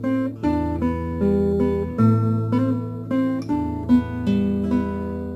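Acoustic guitar picking out part of a song, a slow arpeggiated pattern of plucked notes ringing over sustained bass strings, played alone and close.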